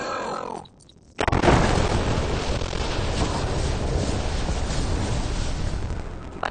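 A spaceship explodes in the video game Mass Effect: Andromeda: after a short near-silent gap, a loud broadband blast erupts and rolls on as a sustained, roaring rumble.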